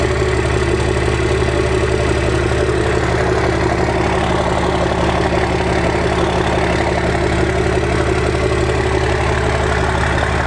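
A first-generation 12-valve Cummins diesel with a VE injection pump idles steadily right after starting: a loud, close, continuous rumble with an even low-end throb and no voices.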